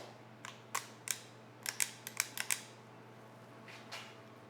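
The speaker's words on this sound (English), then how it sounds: "So if the bolt is in the rearward position and I release the trigger and pull the trigger again, it's still not going to follow the bolt home." A Kel-Tec RDB rifle's trigger is pulled and released repeatedly, giving a string of sharp, close, quiet mechanical clicks in uneven clusters over a faint background hum.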